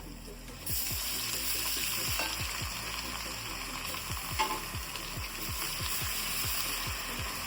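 Onions sizzle and fry steadily in a hot pan for veg biryani, a loud continuous hiss broken by repeated stirring scrapes, close up, with no voices.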